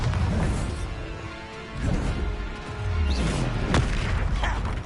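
A Bombarda blasting spell exploding in Hogwarts Legacy, several booming hits with whooshes and crashing debris over busy spell-combat noise.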